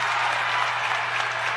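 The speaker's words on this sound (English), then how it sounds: "The crowd is roaring here as Chris Zajac gets his sixth point of the game." A crowd in a high school gym, Staples against Danbury, roars steadily and loudly in a dense, unbroken wash of cheering and clapping with no break.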